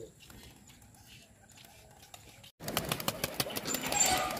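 Quiet ambience gives way to a burst of high-flyer pigeon wings flapping, a rapid series of papery beats close by.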